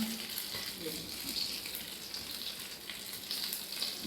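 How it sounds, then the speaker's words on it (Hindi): Potato tikki patties browning in a pan give a steady, close sizzle of frying oil that runs without a break, with no talk over it. "हमारी टिक्कियाँ जो हैं ये बन रही हैं, ये पक रही हैं"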